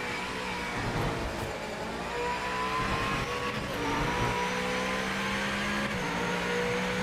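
Race car engine in the racing sims Project Motor Racing and Rennsport, a steady loud drone with gear whine and rising revs, continuous and close throughout, with no talking.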